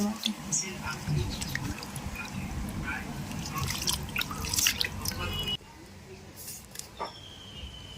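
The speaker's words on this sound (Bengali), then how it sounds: "মাছগুলিকে জল দিয়ে খুব ভালোভাবে ধুয়ে নেব" Small pieces of fish, including tangra fish, being rinsed in water by hand, with steady splashing, dripping and squelching close by through the first five seconds, then quieter trickles and drips afterward.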